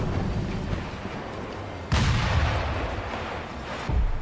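Sniper gunshots in the video game Sekiro: two loud, booming shots about two seconds apart, each with a heavy low thump and a long rumbling tail, with no talking.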